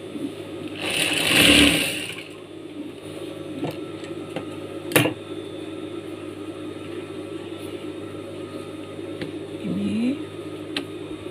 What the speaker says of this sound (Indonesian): Kita jahit mulai dari sini.